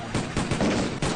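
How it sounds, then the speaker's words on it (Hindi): A quick volley of loud, harsh cracks, several shots in rapid succession, dense and close. "गोली चल गई। जल्दी भाग पंडित।"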